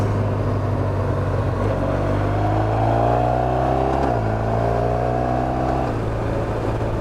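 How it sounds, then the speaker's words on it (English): A car engine climbs in pitch, then drops sharply as gears change twice on a twisty mountain road, the steady loud drone heard from inside the car with no talk. "Can you hear them gears changing?"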